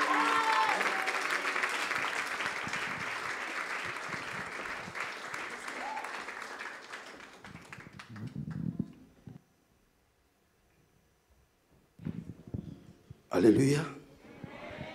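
A church audience applauds and cheers for Jesus at a conference service, with dense sustained clapping for about eight seconds that fades, then a short burst of voices and cheering near the end.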